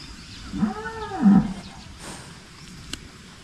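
A single drawn-out moo rises and falls from cattle brought from Batangas as they are let out of their pen, fairly close, followed by faint rustling and a sharp click in the otherwise quiet farmyard.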